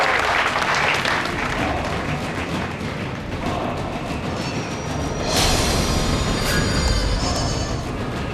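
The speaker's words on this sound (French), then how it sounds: "s'il vous plaît, un tonnerre d'applaudissements." A studio audience gives a dense, steady wash of clapping after a dance performance, holding at an even, fairly loud level and swelling slightly toward the end.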